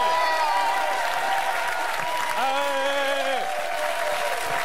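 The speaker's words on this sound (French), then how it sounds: "Applaudissements pour Hubert, Bravo." Studio audience applauding Hubert on a French TV consumer show special, broad clapping sustained under a music-like tonal bed with gliding pitched sounds, loud and even from start to end.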